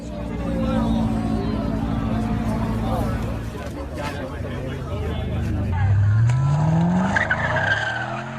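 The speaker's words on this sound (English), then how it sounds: "No compilation is complete without a Ford Mustang launching itself into chaos. The cracking noise is brutal." A Ford Mustang skids with loud tire noise and a rising engine whine, ending in a harsh impact, with a crowd murmuring throughout.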